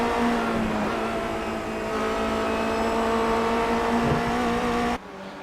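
Formula Renault 2.0 race cars in a sim racing game drone along at high revs, a steady loud engine whine holding its pitch for about five seconds before cutting abruptly to a quieter hum.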